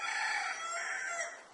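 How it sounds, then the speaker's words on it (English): A rooster crows once in a long, drawn-out call, fairly clear and moderately close, fading slightly at the end. "That's Cogburn you hear in the background"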